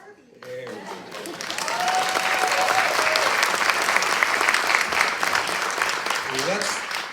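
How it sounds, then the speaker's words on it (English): An audience at a princess pageant breaks into loud, sustained applause that swells after a moment and holds steady before tapering, with voices briefly audible at the start and end. "Let's give one more final round of applause for these young ladies for taking the chance."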